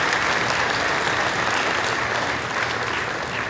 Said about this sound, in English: Let's give them another round of applause and thank you for being here.